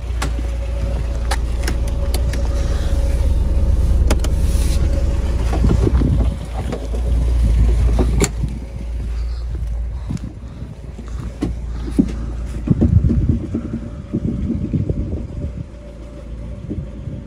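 Škoda Felicia car driving while towing a trailer, a steady low engine rumble with road and wind noise, occasional knocks and rattles from the vehicle, heard from inside and fairly loud throughout.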